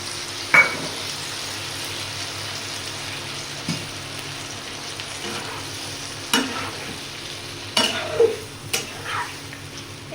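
Food sizzles steadily in a home kitchen pan as tomato ketchup sauce goes in, with a utensil stirring and scraping against the metal in occasional sharp clinks over the constant frying hiss, close and clear with no talking.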